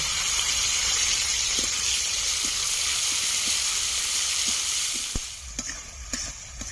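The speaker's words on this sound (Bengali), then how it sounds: "পেঁয়াজ কুচি টমেটো কুচি পেঁয়াজের টমেটোটা ভালো করে ভেজে নেব" Chopped onion and tomato fry in oil for a fish curry, a loud continuous close sizzle that fades after about five seconds into a few clinks and stirring knocks.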